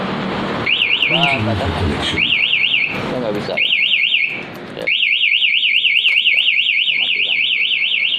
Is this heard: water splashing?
no